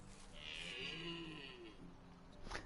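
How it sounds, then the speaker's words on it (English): Cow-like lowing from an animal in the medieval survival game Medieval Dynasty, a single drawn-out call at moderate distance over steady game ambience. "Sound like a cow."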